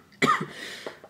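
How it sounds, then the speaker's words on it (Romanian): A single sharp cough from a person, close and loud, followed by a few quieter throaty breath sounds. "Revenind cu tusea mea cea minunată"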